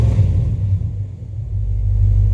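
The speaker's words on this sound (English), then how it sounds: "Give it a quick rev." Flatbed truck with a new engine: a loud, close, low rumble that dips briefly, then swells as the engine is given a quick rev before settling back.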